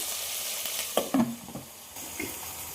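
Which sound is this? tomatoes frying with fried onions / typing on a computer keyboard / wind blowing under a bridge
tomatoes frying with fried onions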